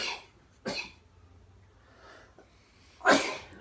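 A few close, sharp sneeze-like bursts break a quiet room, with one at the start, one soon after and a louder final one, separated by faint background noise.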